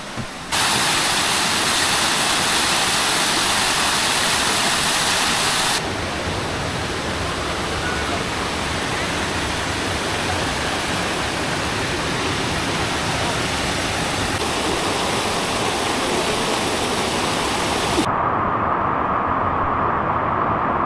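Loud, steady rushing of flowing river water fills the scene, a dense broadband roar that stays constant throughout.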